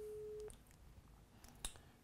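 A single steady telephone tone sounds for about half a second while a call is placed, then cuts off, leaving faint room noise and a small click.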